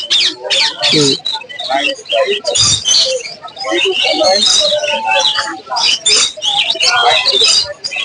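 Albino, yellow and blue parakeets at the Mirpur-1 bird market in Bangladesh chatter and screech loudly and close, with rapid overlapping calls and chirps, mixed with other caged birds and a voice speaking.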